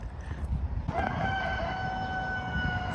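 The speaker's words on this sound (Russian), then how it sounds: "Тут так орут петухи." A rooster crows with a long, drawn-out call that rings out clearly over a low, steady rumble of background noise in Odesa.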